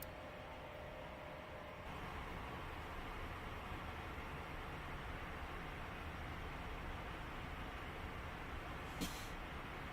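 Airbus A220 engine starting on the right side in Microsoft Flight Simulator, heard as a steady broadband roar that steps up in level after a couple of seconds and then holds evenly, with a brief click near the end.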